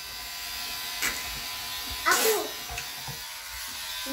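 A steady electric toothbrush buzz runs continuously in the background, fairly faint, with a voice and brief speech breaking in over it.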